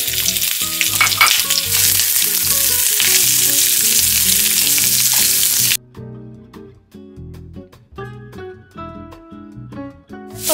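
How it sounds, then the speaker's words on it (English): Red onions fry in olive oil in a pan, giving a steady hiss that sizzles under music for the first half before the music carries on alone. "First, I'm going to fry the red onions."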